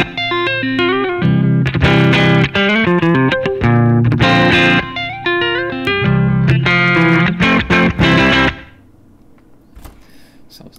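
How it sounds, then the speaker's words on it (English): Electric guitar runs through a Kemper profiling amp on a Fender Twin model pushed into light crunch, loud close chords and riffs in bursts for about eight seconds, then cut off to quiet. "So this is the Kemper first."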